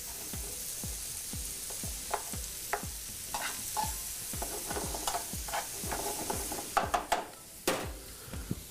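Minced garlic is stirred into simmering sausage and onions in a pan, giving a soft continuous sizzle broken by rhythmic utensil scrapes and taps.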